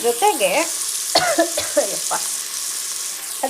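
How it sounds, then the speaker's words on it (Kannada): Tomato frying in a pan for savige upma gives a loud, close sizzle under scraping stirs, with several sharp bursts of movement in the first half and a steadier hiss afterwards. "ಟೊಮೆಟೊ ಸ್ವಲ್ಪ ಫ್ರೈ ಆಗಬೇಕೀಗ ಈ ರೀತಿ."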